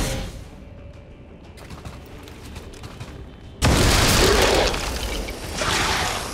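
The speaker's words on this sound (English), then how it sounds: "use Alyssa's Lightning Hands ability to blow up the barrel right in front of her" A barrel blown up in the turn-based strategy game XCOM 2: War of the Chosen, a sudden loud, broad blast erupting midway after a quieter stretch and rumbling on for a few seconds.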